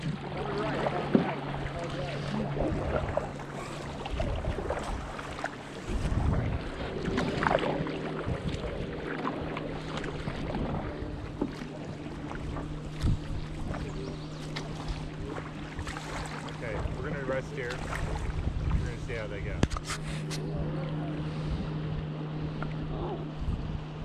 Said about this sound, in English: Just paddle normal. Save some strength.